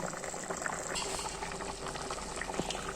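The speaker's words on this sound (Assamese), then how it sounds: "এতিয়া মাংসটো ধুনীয়াকৈ উতলিছে" Mutton curry with raw papaya boils in a pot, a continuous bubbling simmer with a few louder pops, heard alone and fairly soft.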